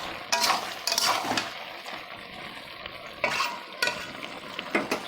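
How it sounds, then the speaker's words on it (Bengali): Prawns and fish oil fat are stirred in a frying pan, scraping spoon strokes in irregular bursts over a wet, bubbling sizzle, close and fairly loud, with no one talking. "একটু নাড়িয়ে দেবো।"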